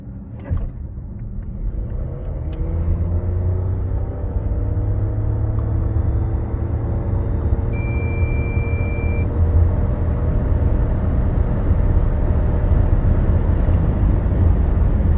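A 2023 Nissan X-Trail hybrid 4x4 accelerating hard from a standstill, its drive note rising steadily into a loud, continuous road rumble with tire and wind noise building toward higher speed.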